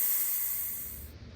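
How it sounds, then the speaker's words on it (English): Steady steam hiss from a pressure canner at full pressure while homemade chicken stock is processed, a broad continuous whoosh that fades and cuts off near the end. "we've got a steady stream of steam coming pretty solidly"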